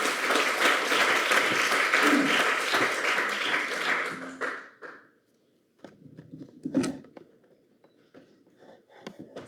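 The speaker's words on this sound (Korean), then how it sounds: "힘찬 박수로 모시겠습니다." A seminar audience gives loud applause to welcome a presenter. Many hands clap steadily for about four seconds, then fade out, leaving scattered quiet taps and shuffling.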